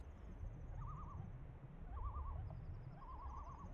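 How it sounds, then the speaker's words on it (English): Birdlike calls play in an underwater scene of a video game, soft and distant: three short warbling trills spaced about a second apart over a steady low ambient rumble, with a faint high whistle above. "Also, why do I hear birds?"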